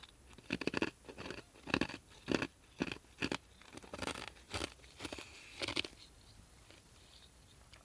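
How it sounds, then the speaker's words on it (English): Ice being chewed with loud, close crunches in an irregular series of about a dozen bites, each a sharp crackling burst, with no talking. "who else chews on their ice?"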